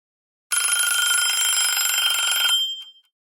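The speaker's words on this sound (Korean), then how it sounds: "3일 동안 같은 전화벨이다." A telephone rings with a bright, continuous electronic trill lasting about two seconds, then cuts off, leaving a brief faint tail; it is loud, close and alone in an otherwise quiet room.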